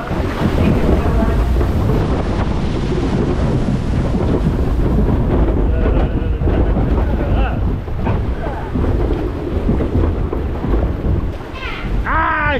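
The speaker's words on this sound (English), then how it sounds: "Nice little river ride in a log" A bumpy log flume river ride at Busch Gardens Tampa, with loud, continuous rushing and splashing water and buffeting wind noise throughout, plus a brief high-pitched voice right at the end.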